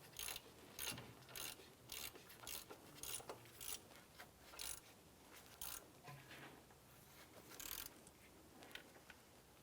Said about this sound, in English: Go ahead and tighten up our upper pivot bolt here.